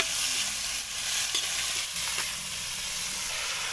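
A seafood dish with tomatoes simmering in coconut milk is stirred in a pan, producing a steady bubbling sizzle with soft scraping strokes of the spoon, continuous and fairly close.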